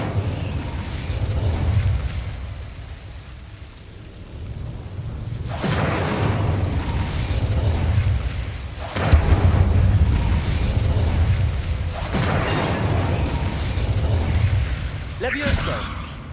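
Incendio and other spell blasts in a Harry Potter video game, cast by a Hufflepuff player: repeated heavy whooshing bursts every few seconds over a low rumbling bed, with a player's voice calling out between impacts.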